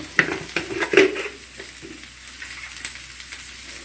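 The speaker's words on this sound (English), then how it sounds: "Let us add the cabbage, green chilli, let us add the salt." A spoon stirs cabbage, green chilli and salt into fried onion in a frying pan, several sharp metallic scrapes and clanks over a quiet sizzle, busiest in the first second and then sparser taps.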